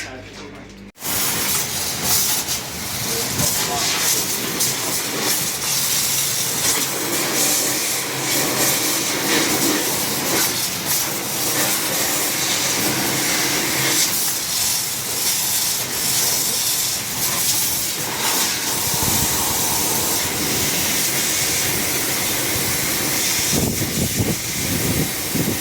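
A water spray washing a dismantled tractor and its tyre makes a loud, steady hiss that runs almost without a break for the whole stretch.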